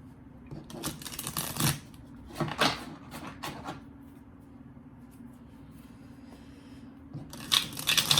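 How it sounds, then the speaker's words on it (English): Several bursts of tarot cards being shuffled, riffling in short rustling runs with quiet pauses between, close up and no talking. "Shuffle."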